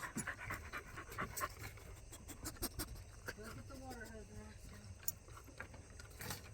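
A dog pants quickly and repeatedly while being washed, in short breathy bursts close by, with splashes, handling noises and some voices in the background.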